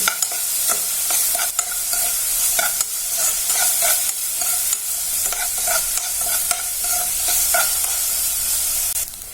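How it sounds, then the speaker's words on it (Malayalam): An onion mixture with salt sautéing in a pan for Maggi masala noodles gives a loud, bright sizzle. Quick rhythmic spoon scrapes and stirring strokes come close up, with no speech. "ഇനി ഇതൊന്ന് നല്ലപോലെ ഒന്ന് വഴന്നു വരണം."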